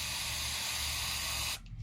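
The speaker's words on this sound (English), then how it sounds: "Take my brake cleaner, light spray." Brake cleaner aerosol hisses in one steady, close spray onto a Poulan chainsaw for about a second and a half, then cuts off sharply, leaving a faint low hum.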